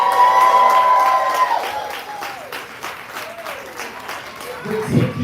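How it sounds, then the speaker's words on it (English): A live spoken-word poetry audience applauds and cheers for a poet, clapping and whooping under a speaking voice, with the applause thinning in the middle before swelling again at the end. "Make some noise for that poet one time."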